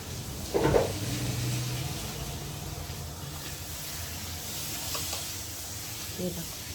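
Home kitchen cooking with a chimney exhaust fan running: constant airy fan hiss and soft frying sizzle, a clattering knock near the start and faint voices and utensil taps later on.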